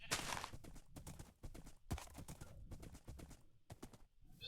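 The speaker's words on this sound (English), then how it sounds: "Still not real used to riding around on a horse" A horse ridden through a Minecraft world clip-clops in quick, rhythmic hoofbeats, fairly close, with brief pauses and a faint bird call in the background.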